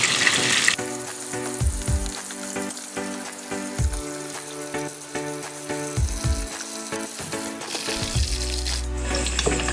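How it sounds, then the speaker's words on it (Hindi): Fish fries in a pan with a steady, crackling sizzle for a fish curry dish. Tonal background sounds, like music, play throughout, and the sound swells briefly near the end. "अब हम मछली को दूसरे साइड पलट देंगे"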